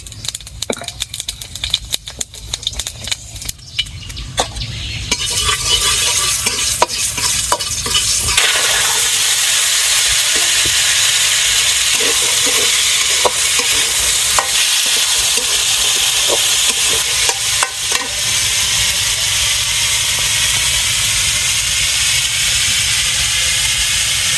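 Potatoes frying in hot oil give a loud, steady sizzle that swells after the first few seconds and holds for the rest, with scattered scraping stir clicks and no talking.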